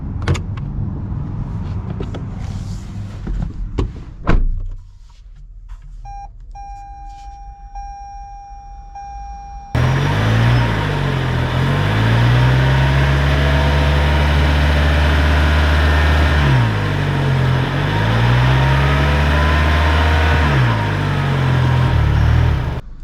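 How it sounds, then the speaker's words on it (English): A 2021 Toyota Highlander Platinum Hybrid starts out with a few clicks and chimes, then drives off with loud, steady road and engine noise that rises and falls as it accelerates. "let's take this Highlander Platinum out and see how it drives."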